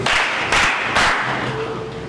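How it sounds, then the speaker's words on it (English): Classroom of students clapping together in a steady burst of applause, fairly close, with a couple of louder swells and no talk over it. "Clap for yourself."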